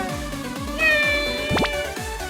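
Kittens in a video game minigame meowing a few times, short cute mews over a bouncy repeating game tune with a quick rising sparkle effect partway through.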